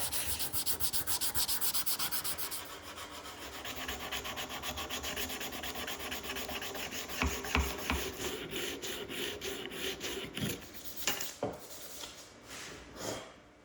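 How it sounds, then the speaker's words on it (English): A cast brass karambit rubbed by hand with polishing compound, rapid rhythmic scrubbing strokes that run close and continuous, then slow into scattered rubs and light metallic touches near the end, with no talking. "It's all about elbow grease now, transforming the dull gold to a brilliant mirror-like yellow."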